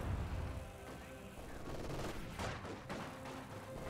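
Counter-battery heavy mortar fire in a Company of Heroes 2 battle: dense, overlapping blasts and rattling gunfire pound on without pause for a few seconds, loud and close.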